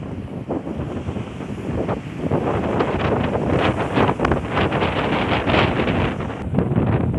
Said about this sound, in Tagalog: Dahil nga sobrang mahangin.